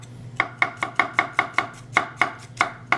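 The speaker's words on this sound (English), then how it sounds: "I've got some orange cauliflower, and I'm just going to shave that." A knife thinly shaving orange cauliflower on a cutting board, about a dozen crisp, evenly spaced chops close up, with no talking.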